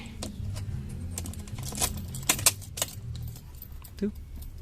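Car keys jangle and clink in a quiet space, with scattered metallic rattles and a couple of sharper chinks near the end, close and fairly faint.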